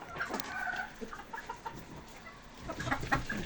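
Young Wyandotte chickens in a backyard coop give repeated soft clucks and short calls at close range, steady and moderately loud throughout with no speech.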